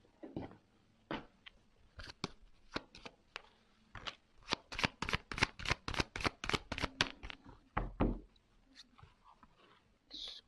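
Tarot cards are shuffled and drawn by hand in a quiet room, close rapid riffling bursts building into a steady run of crisp card snaps, followed by a few slower single flicks.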